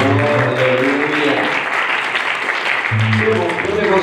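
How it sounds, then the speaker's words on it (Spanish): A church congregation claps together at a Spanish-language worship service, steady dense applause filling the room, with voices and music-like tones rising over it at the start and end. "aplauso delante del Señor."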